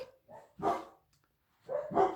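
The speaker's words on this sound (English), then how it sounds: "My dogs now clearly want to play along to this story too." Several dogs bark indoors in short bursts, two quick barks, then a pause, then a double bark, close and fairly loud.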